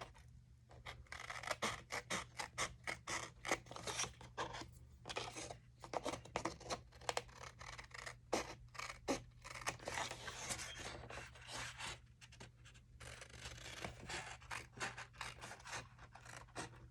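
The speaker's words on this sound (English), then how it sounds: "I should use my larger scissors instead of using the smaller one" Large scissors snip through paper in quick, irregular bursts of crisp rasping cuts for journaling crafts, close and fairly quiet over a steady low hum, with no voices.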